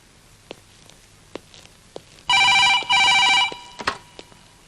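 An electronic telephone bell rings twice in two short, loud bursts, with a few soft knocks and clicks around it in a quiet room.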